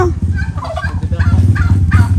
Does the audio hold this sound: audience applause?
no